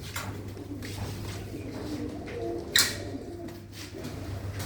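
Pigeons coo softly in a loft of blue-footed breeds, a low steady murmur with a faint hum underneath and one brief sharp clatter partway through.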